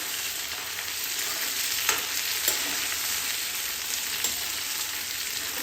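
Chopped okra frying in oil in a pan gives a continuous close hiss and sizzle, broken by a few sharper pops and crackles, with no talking.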